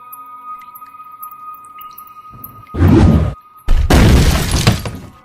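In a cartoon, a body is thrown onto the ground: two heavy, crunchy impact bursts land after a quiet low hum, the second longer and trailing off.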